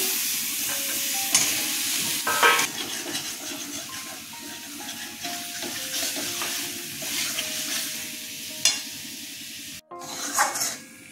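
Potatoes sautéing in a pan with salt for a Bengali aar fish curry, a steady low sizzle with scattered stirring scrapes and clinks, close and alone without talk.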